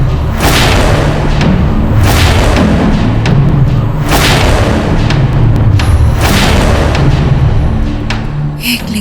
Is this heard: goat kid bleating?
no